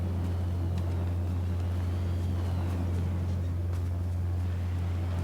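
A vehicle engine in the PUBG New State mobile game drones as the car arrives, a loud, steady low hum that holds evenly for the whole stretch with faint wind-like hiss above it.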